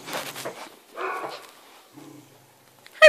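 A senior dog gives a few short, close barks and yips, with quieter gaps between them and a sharp louder burst right at the end.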